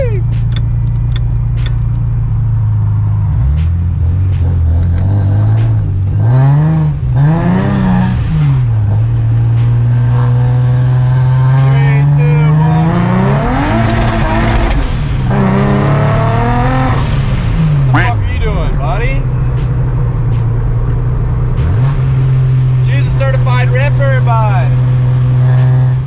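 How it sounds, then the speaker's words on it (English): Nissan 350Z exhaust droning steadily while driving in the rain, with engine note climbing and falling through several gear changes and revs, loud and close, with someone talking at times. "The exhaust isn't as loud as it used to be too"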